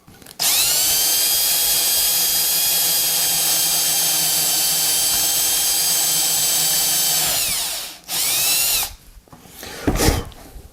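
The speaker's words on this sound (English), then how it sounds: "So let's drill out those holes, and we'll be right back." A power drill whines steadily at close range for several seconds, drilling holes freehand in a guitar body for a Wilkinson bridge, spins down, then gives a couple of short bursts.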